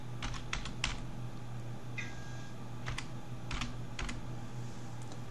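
Someone types a short code on a computer keyboard, sparse irregular key clicks in small clusters over a quiet steady room hum.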